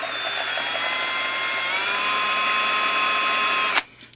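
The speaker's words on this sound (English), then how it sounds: "Just let the drill bit do the work." Close, loud whine of a power drill running continuously into the plastic of a Sega Genesis case, pitch shifting slightly before it cuts off abruptly.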